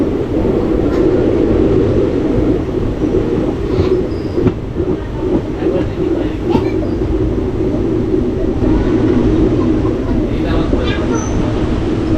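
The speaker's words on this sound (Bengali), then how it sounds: "কাটোয়া আহমেদপুর প্যাসেঞ্জার ট্রেন এই মুহূর্তে 7 কিলোমিটার অতিক্রম করে চলে আসলো অম্বলগ্রাম স্টেশনে।" Katwa–Ahmedpur passenger train pulling into Ambalgram station, a continuous close rail rumble with faint clicks and squeals over it, holding steady throughout.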